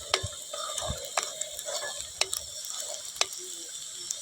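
Whole spices such as cinnamon, black pepper, cloves and cardamom frying in oil in a pan during outdoor cooking, giving a steady soft sizzle broken by sharp clicks and pops from stirring, with no talking.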